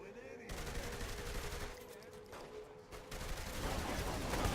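Gunfire in the video game Saints Row: The Third, rapid bursts of automatic shots in a loud, steady volley that breaks off briefly and then resumes, with faint voices underneath.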